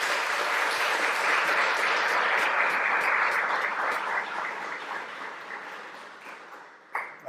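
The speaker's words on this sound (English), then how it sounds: "I'd like to have a round of applause for all of the SVA leadership that's here today." Sustained audience applause at a student veterans event honoring its leadership, a dense wash of many hands clapping steadily, loud and close, then thinning and fading toward the end.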